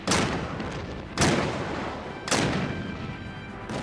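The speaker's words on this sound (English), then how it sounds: "As the Monitor began firing her 2 cannon" Ironclad warship cannon fire, three heavy booms roughly a second apart, each with a long rumbling decay that overlaps the next, loud with no talk.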